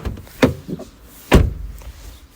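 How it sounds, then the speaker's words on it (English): Car door on a BMW E38 740i shutting twice, each a solid, heavy thud with a short decay, close by with faint background noise between the closes. "Let's listen to that door."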